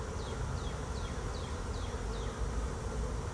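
A dense swarm of honeybees buzzes continuously and loudly up close while moving into a top bar hive, with faint chirps high in the background.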